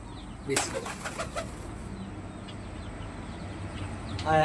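Pigeons are released by hand on a farm, giving a brief burst of wing flapping near the start followed by fainter flutters. A voice murmurs quietly in the background, and there is a soft rustle at the end.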